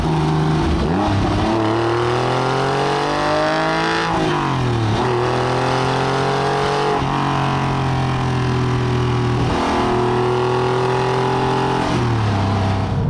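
A 1999 Porsche 911 GT3 996 engine revs loudly and continuously while driving, climbing in pitch through several gears with brief dips at each shift, recorded close up without talking.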